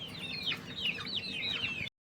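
Newly brought chicks peep continuously in quick, high, downward-sweeping chirps, several birds overlapping at close range with no talking, as old chicks are attacked by new ones.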